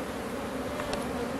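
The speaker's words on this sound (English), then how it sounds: "we're gonna just pull these bees all the way down to the bottom box" Honey bees in a hive box give a steady, low, close buzzing hum throughout, with a faint brief tick partway through.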